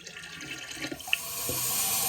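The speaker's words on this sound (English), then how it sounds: "Place the graduated cylinder under the faucet and rinse it." Water runs from a faucet as a graduated cylinder is rinsed beneath it, a steady close rush with a small clink partway through and a stream that grows fuller toward the end.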